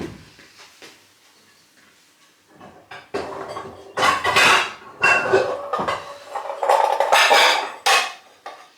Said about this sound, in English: I will grab a bowl.